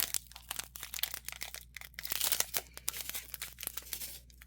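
Diamond painting kit packaging is torn and crinkled up close, producing a continuous series of sharp rips and crackles over a low steady hum.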